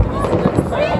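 A brief burst of American fireworks exploding, with a dense, booming crackle filling the second while people talk nearby.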